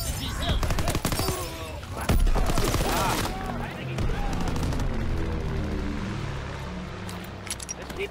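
A PPSh-41 submachine gun fires rapid bursts in a WW2 shooter game, with sharp loud volleys early on, a heavy blast, and then fading combat noise, joined by game voice chatter.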